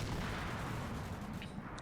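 Gunfire in a war video game set in snow, a dense continuous roar of shooting and distant booms that fills the whole stretch without a break.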